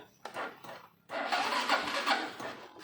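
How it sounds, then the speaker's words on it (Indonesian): A used motorcycle engine turns over and catches after a short crank, then runs at a steady, fairly loud idle close by; no one speaks. "Untuk mesinnya juga masih halus ya."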